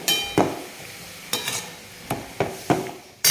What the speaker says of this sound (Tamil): சின்னதுலேயே வச்சு வதக்கின்றிருக்கேன் நான்.